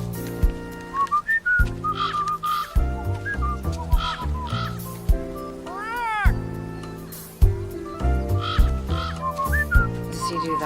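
Melodic whistling of a short tune, loud and close, with a rising and falling slide in the middle and musical accompaniment underneath.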